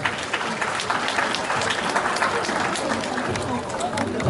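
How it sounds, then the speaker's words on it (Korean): An audience at a fire-safety training session claps loudly and steadily to welcome the lecturer, with some voices mixed into the dense applause. "큰 박수로 맞이해 주시기 바랍니다."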